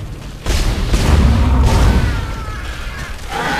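Shooting and a booming explosion in the sci-fi horror game Dead Space, loud and reverberant, with heavy low rumbles that swell and fade over a few seconds and no talking.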